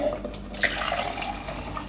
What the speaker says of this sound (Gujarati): હવે એમાં પાણી નાખી દે હું આપણે.